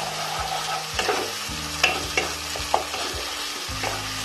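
Ginger and cumin pastes being stirred into a pan for a Bengali tangra fish curry with cauliflower, a spoon scraping the pan in repeated strokes over a low steady sizzle, with a few sharper clicks.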